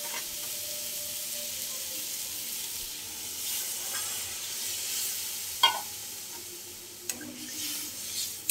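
Chicken meat frying in a pan for momo soup, a steady soft sizzle and hiss with a few brief clatters of stirring near the end, no talking.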